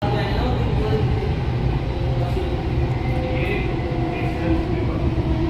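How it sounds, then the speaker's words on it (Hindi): Steady low rumble and rattle of a metro train in motion, loud and continuous throughout, with faint squeals riding above the drone. "एक स्टेशन एकदम खाली पड़ी है मेट्रो"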